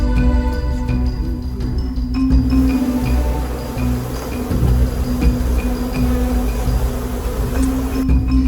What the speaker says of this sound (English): As more and more bees started buzzing around